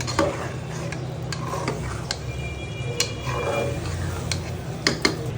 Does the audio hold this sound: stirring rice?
yes